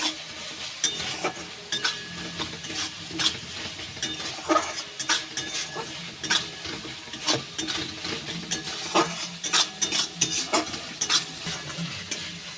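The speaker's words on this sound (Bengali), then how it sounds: "এইবার কালারটা যাতে ভালো আসে তার জন্য কাশ্মীরি রেড চিলি পাউডার দিয়ে দেব 1 চামচের মতো। এইবার ভালো করে নেড়ে নেব।" Spices and Kashmiri red chili powder are stirred in a hot oiled pan while cooking pumpkin with prawns, giving a steady sizzle with repeated sharp scrapes and clinks of a spatula against the metal pan, close and loud.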